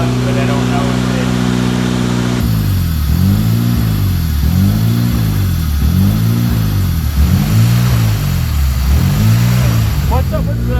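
HPD racing K-series engine swapped into a Honda Civic EK street car, a steady idle that then revs repeatedly in smooth rising and falling sweeps, loud and close throughout, with a voice audible over it.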